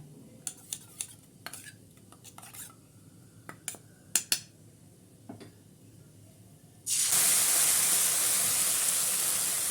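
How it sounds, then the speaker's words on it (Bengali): Ginger, garlic and green chilli paste hits a hot pan for doi chicken, first a few light clinks of a spoon against the pan, then a sudden loud, steady sizzle that fills the rest. "আদা রসুন আর কাঁচা লঙ্কাটাকে আমি দিয়ে দিলাম এবার এটাকে ভালো করে একটু নেড়ে নিচ্ছি"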